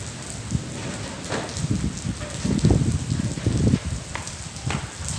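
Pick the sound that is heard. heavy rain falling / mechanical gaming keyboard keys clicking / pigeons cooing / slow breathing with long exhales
heavy rain falling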